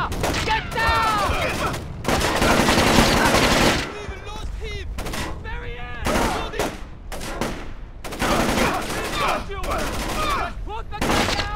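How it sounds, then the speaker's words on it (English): Rapid bursts of automatic gunfire in Splinter Cell: Chaos Theory, dense fusillades in several loud stretches separated by brief lulls, with shouting voices mixed in. "Incoming fire! Get down!"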